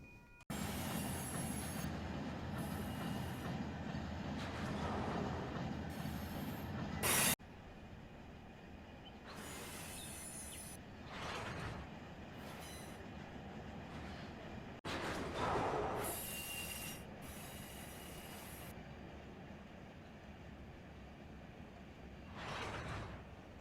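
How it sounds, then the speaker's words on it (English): Grain railroad cars roll along the track in Run8 Train Simulator on the CSX A-Line, a steady rumbling clatter with repeated high wheel squeals and hisses, one sharp bang, and the noise easing slightly partway through. "Let's get the grain cars in."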